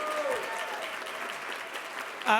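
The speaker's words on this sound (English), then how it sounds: "Can we please give her a round of applause?" Audience applause at a California climate policy summit plenary honors Ellie Cohen, a moderately distant, steady wash of clapping from a large room, with a brief voice rising near the end.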